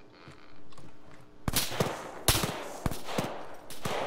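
Gunfire in the military shooter Arma 3 crackles in rapid bursts of sharp shots, some close and loud, others echoing farther off, with a steady rumble of game ambience underneath.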